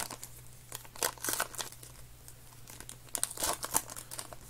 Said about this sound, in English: We'll open up the greatest moments cards.